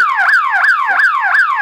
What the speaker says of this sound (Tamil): நீங்க எங்க ஒரு இடத்துல டச் பண்ணா கூட உங்களுக்கு 1/2 கிலோமீட்டருக்கு வந்து சைரன் கொடுக்குற மாதிரி இருக்கும்.